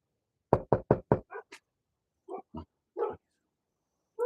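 A dog barks from behind a house door, first in a fast run of four sharp barks and then in scattered, softer yips and woofs. No one speaks and the sound comes through clearly at mid distance.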